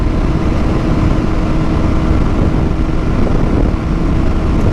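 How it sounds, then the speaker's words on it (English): A 2007 Honda CBR1000RR motorcycle fitted with a Yoshimura exhaust gives a loud, steady, rumbling roar up close that holds at an even level without pause. "the exhaust sounds good. It's a Yoshimura, but it's just not as loud as I want it"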